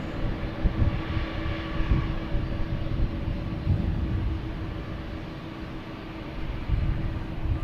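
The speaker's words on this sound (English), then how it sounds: "All right, here's Delta 100-year livery." A Delta airliner in its 100-year anniversary livery passes at Boston Logan Airport, a continuous jet engine roar with a low rumbling texture, fairly close and unbroken.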